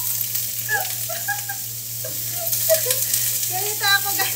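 Sayote and shrimp cooking in a frying pan for coconut shrimp, with a light steady sizzle under faint birdlike chirps and a constant low hum.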